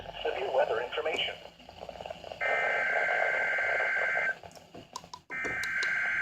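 A NOAA weather radio sounds its severe thunderstorm alert, a sustained piercing tone that cuts off briefly and then resumes, preceded by radio speech and crackle.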